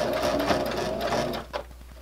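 A sewing machine stitches a seam on a fabric grocery bag holder in a steady close whir, then slows to a few separate needle strokes at the end.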